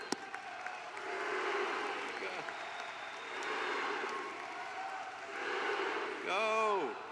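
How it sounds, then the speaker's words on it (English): Commencement crowd applauds the graduates in a large venue, sustained clapping swelling in waves, moderately loud and somewhat distant, with a brief voice near the end. "a round of applause for all of these grads."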